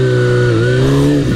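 A carbureted Kawasaki ZXR250 motorcycle engine revs loudly up close, a deep steady drone whose pitch rises and dips briefly, with no one speaking.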